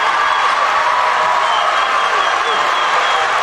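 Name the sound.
Hesston basketball crowd cheering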